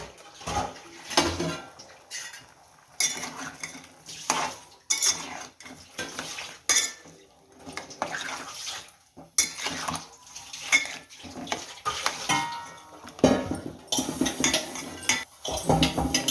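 A tamarind mixture being stirred with salt produces repeated metallic clinks and scrapes of a spoon against a pot, coming in uneven bursts separated by short quiet gaps.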